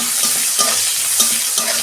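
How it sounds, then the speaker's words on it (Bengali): Onions fry in hot oil seasoned with Bengali five-spice, giving a steady close sizzle broken by a few soft scraping stirs of the spatula, with no voices. "পেঁয়াজ আমি একটু 2 মিনিট ভেজে নেব"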